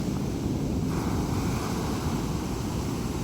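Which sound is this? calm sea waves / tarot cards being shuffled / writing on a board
calm sea waves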